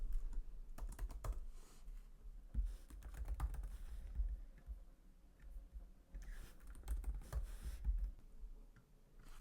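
Fingers tap steadily on a computer keyboard at a crafting desk while names are entered for a Cricut project; the clicks are soft and close, in uneven runs with brief pauses.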